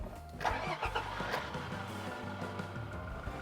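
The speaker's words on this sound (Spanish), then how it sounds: "voy a encender un momento el coche" A Toyota Hilux engine cranks and catches, starting up with a short burst before settling into a low running hum.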